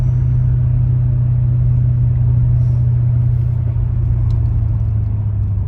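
Steady, loud rumble of a car cruising along a country road, the engine drone and road noise continuous and close throughout with no voices.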